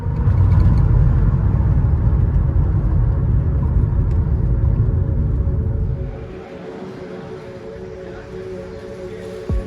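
A car driving with steady loud engine rumble and road noise, heard from inside; around six seconds the rumble drops to a quieter, smoother drone with faint tonal hum.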